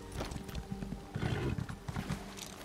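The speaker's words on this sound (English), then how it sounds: "Can my horse swim?" A horse in the Elder Scrolls Online video game whinnies and snorts, then its hooves clop in a loose rhythm, faint and unaccompanied by talk.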